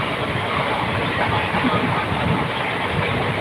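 Inside a moving train travelling from Salem to Chennai, a loud, constant rumbling roar with a faint rattle of the carriage fills the space without pause.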